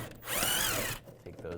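A power drill or impact tool spins out bolts inside the wheel well of a 2015-2020 Cadillac Escalade using a 7mm socket, one loud, steady whirring burst of about half a second, close up, then quieter handling noises.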